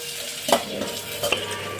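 Oil tempering with mustard seeds, cumin, curry leaves and onions hisses softly and steadily in a pan, with two sharp spoon clinks against the metal.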